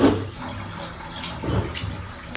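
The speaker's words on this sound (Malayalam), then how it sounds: "ഇനി നമുക്കത് കഴുകി വൃത്തിയാക്കി എടുക്കാം. രണ്ട് മൂന്നാലത്തെ കഴുകാൻ മതി." A large purple yam being washed in water, with low steady splashing and sloshing close by and brief louder swishes.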